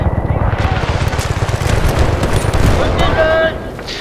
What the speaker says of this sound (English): Some guy's calling artillery in.